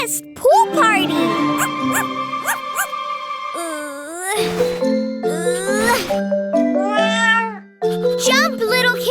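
Cartoon kittens at a pool party give a string of bright, rising meows alongside chiming jingles and playful music, with pitched cries repeating throughout and no clear speech.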